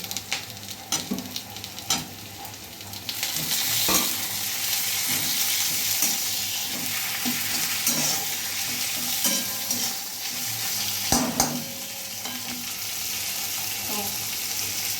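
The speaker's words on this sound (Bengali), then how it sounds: "পেঁয়াজটা লাল লাল করে ভাজা হয়ে গেছে, এর উপর আমি এবার টমেটোটা দিয়ে দেবো।" Tomatoes frying over browned onions in a pan for a brinjal dish, a steady sizzle with scattered spoon scrapes and clinks, the clatter thickest near the start and again toward the end.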